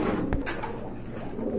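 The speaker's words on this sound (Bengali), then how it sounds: "এই যে দেখেন খুবই রাগী কবুতর মাশাআল্লাহ" An aggressive Roman gal pigeon gives a soft, low coo up close. A short sharp knock sounds near the start, and a faint steady background fills the rest.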